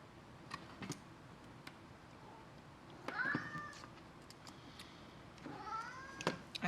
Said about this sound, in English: Hey Tuco, what do you want, little cat?